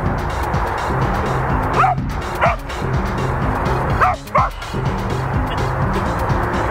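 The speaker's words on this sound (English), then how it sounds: "The dog's really excited by the running, the going." Excited dog barking and yipping during an outdoor recall training game, several sharp barks in irregular bursts close by over a steady rumbling background, with whiny yelps between.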